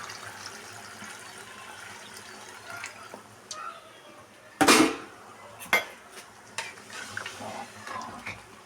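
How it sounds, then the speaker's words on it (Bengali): Hot water is poured into a pan of cooking chicken, giving a sudden loud hiss and splash over a quiet sizzle, followed by clinks of a utensil against the pan. "চলো এবার গরম জলটা অ্যাড করে দেব সামান্য একটু গরম জল আমি দিয়ে দেব"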